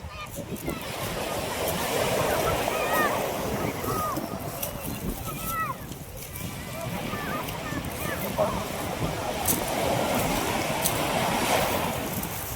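A small boat rides choppy sea off Gen. Nakar, Quezon, with a constant close rush of waves and wind noise beneath ongoing conversation.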